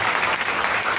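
A church congregation claps together in a dense, steady burst of applause that fills the space, loud and continuous with no gaps.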